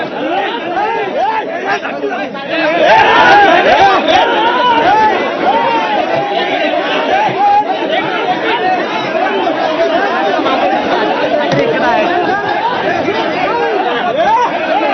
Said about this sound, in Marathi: कार्यकर्त्यांची सुद्धा गर्दी झालेली आहे